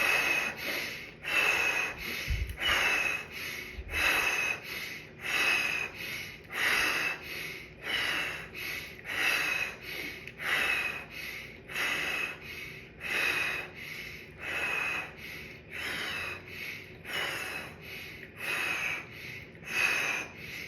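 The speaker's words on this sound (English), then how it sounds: "Now we're going into your next pattern. Breathing in" Rapid, forceful rhythmic breathing during a fire-breath and Wim Hof style breathwork session, a steady train of sharp nasal snorting breaths repeating about once a second for twenty seconds, close and loud.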